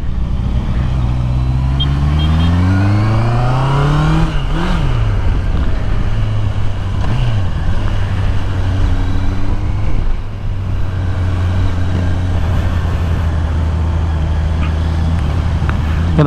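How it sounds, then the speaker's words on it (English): A 2023 Honda CBR650R motorcycle with an aftermarket exhaust revs up and down with a deep, throaty note, then settles into a loud, steady idle close by. "Ang ganda ng tunog nito pag pinalitan mo yung exhaust"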